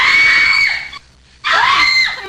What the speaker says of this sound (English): screams are being dubbed into the scene